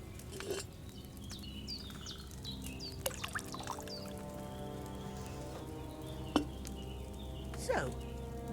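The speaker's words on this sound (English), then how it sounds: "So, what did you pour in there? Wine, of course." Wine pours into a pitcher in Kingdom Come: Deliverance 2, a soft liquid trickle under a quiet ambient game backdrop with faint bird chirps.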